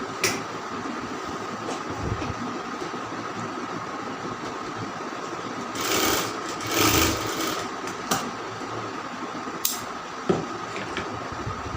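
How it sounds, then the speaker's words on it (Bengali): Sewing machine double-stitching a round kameez, a continuous steady mechanical hum at close range with a few louder surges and clicks along the way. "এখান থেকে এই পর্যন্ত আপনার ডাবল সেলাই দিলাম"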